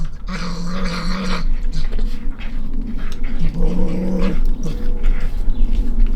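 Captive fishers vocalizing inside a kennel, loud close growling and chattering calls with harsh, raspy bursts repeating in uneven waves, a low steady hum beneath.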